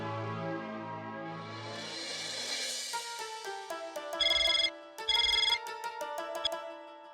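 A phone rings out when Bagha is called, electronic ringtone tones and melodic beeps repeating in bursts after a rising whoosh, clear and close with no talk over them.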